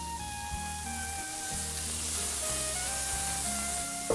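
Marinated chicken sizzling steadily on a hot grill, a continuous close crackle and hiss with faint background tones and no talking.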